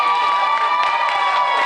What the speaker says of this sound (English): Show me with a round of applause.